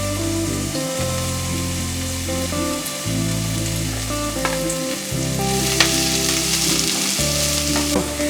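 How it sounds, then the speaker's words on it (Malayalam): Carrot, cabbage and green chilli sizzle loudly as they are sautéed over high flame for chicken fried rice, with steady frying hiss and stirring scrapes throughout, no talking. "ഇപ്പം നമ്മൾ ഈ വെജിറ്റബിൾസ് സോട്ട് ചെയ്യുമ്പോൾ ഹൈ ഫ്ലെയിമിലിടുക"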